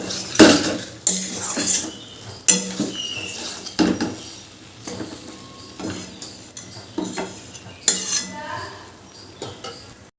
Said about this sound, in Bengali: আবার ভালো করে মিশিয়ে নেব এভাবে প্রায় আরও দু তিন মিনিট মতো আমি কষবো